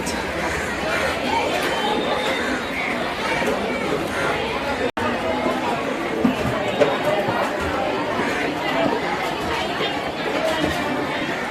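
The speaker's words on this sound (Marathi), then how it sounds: "मरणाची गर्दी आहे" Dense crowd chatter fills a packed fish market where mandeli and pomfret are being bought and cleaned, a steady babble of many voices with one sharp knock partway through.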